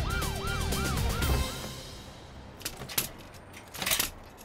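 An ambulance siren from an action TV drama wails in rising and falling sweeps for about a second and a half, then fades away, leaving scattered clicks and clatter in a busy background.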